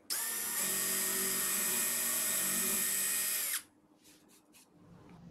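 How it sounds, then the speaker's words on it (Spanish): A power drill with a sharp-pointed wood bit bores into a melamine cabinet panel, a loud steady whine for about three and a half seconds that stops abruptly, followed by faint handling noises. "La broca para madera te permitirá hacer un centro preciso con la punta aguda que tiene"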